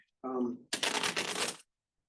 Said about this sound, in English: I have a deck of cards. You know, shuffle them up.